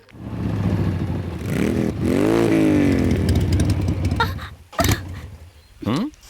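A motorcycle engine revs and sputters as it runs out of petrol, rising and falling in uneven surges before cutting out, followed by short clattering bursts and a final brief rev.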